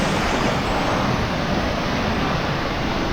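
Rushing waterfalls near Glacier National Park in Montana, a loud, dense, unbroken roar of falling water filling the whole stretch evenly, with no voices over it.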